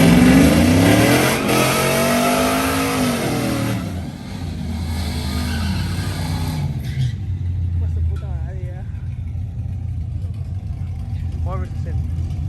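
Ford and Chevy trucks revving against each other in a race at a summer truck show, loud engines rising and falling in pitch, then receding into a lower, steady rumble with people talking over it.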